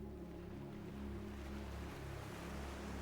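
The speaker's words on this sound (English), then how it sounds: "the distant crash of waves against the rocks below" Ocean waves crashing against rocks below a secluded treehouse retreat, heard as a steady, faint, continuous wash of surf with a low rumble and no distinct individual breakers.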